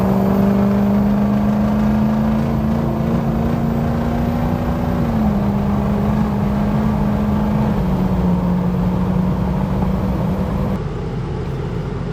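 A Ford 6.0 Powerstroke diesel truck with a high pressure oil leak held at full throttle, a loud steady droning engine note that sags and wavers slightly as it stutters, continuous for about eleven seconds before easing off.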